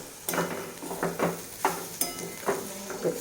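Bottle gourd peel fries in a pan, a spatula stirring and scraping in regular strokes about every half second over a soft sizzle, close and clear, with no talking.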